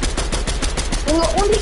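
Rapid gunfire from the Fortnite video game, a dense run of sharp repeated shots in quick succession throughout, with a rising electronic whine near the end.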